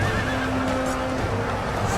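Horses of Russian dragoons in an Empire: Total War battle whinny loudly amid a dense, continuous roar of game battle noise.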